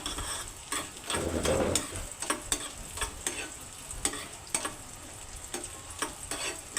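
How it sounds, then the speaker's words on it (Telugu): Raisins and cashews fry in a pan for sweet chakkara pongal, a close, steady sizzle broken by regular clicking taps as a spoon stirs them. "కొన్ని కిస్మిస్ కొన్ని జీడిపప్పు డ్రై ఫ్రూట్ వేయించుకుంటున్నానండి"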